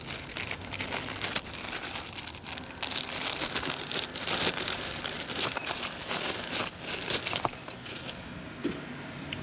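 A plastic bag used to ship a 1960 Sportster flywheel for diagnosis and repair crinkles and rustles in close, irregular bursts as it is handled in a workshop, with faint metallic clinks and no talking.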